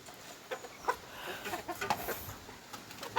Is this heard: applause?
no